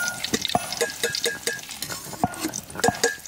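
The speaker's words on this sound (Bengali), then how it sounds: "পেঁয়াজের বেরেস্তা ভেজে নিছি" Sliced onions crisp in oil over a village cooking fire, a soft sizzle punctuated by frequent rhythmic clinks and scrapes of a spatula stirring them.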